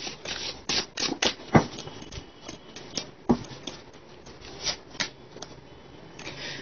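Tarot energy cards are shuffled by hand: close, crisp snapping and riffling clicks arrive in irregular bursts, with no speech over them.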